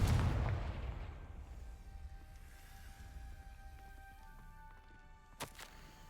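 A Confringo blasting spell goes off in Hogwarts Legacy as one deep, fairly quiet boom at the start that fades into a long low tail, with a brief sharp crack near the end.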